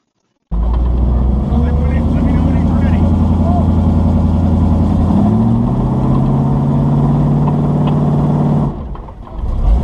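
A Chevy Truggy's off-road engine revs loud and close, straining steadily for several seconds as it fights for traction on a wooded side slope, then cuts back sharply near the end.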